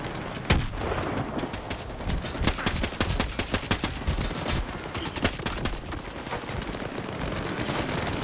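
Rapid gunfire from a newly kitted-out weapon in a video game: dense, loud bursts of automatic shots crackle continuously, with sharp individual reports and some heavier impacts scattered through the burst.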